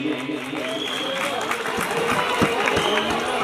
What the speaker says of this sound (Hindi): स्वागत सम्मान हो रहा है तो ताली बजाइए।